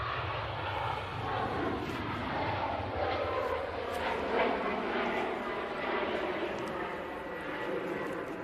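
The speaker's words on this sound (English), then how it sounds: "Etihad's on finals." An Etihad airliner on final approach at Manchester Airport gives off a steady, broad engine roar that holds at moderate loudness throughout, with voices faintly present underneath.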